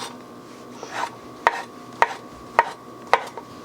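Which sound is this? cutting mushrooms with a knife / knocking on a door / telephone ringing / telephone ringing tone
cutting mushrooms with a knife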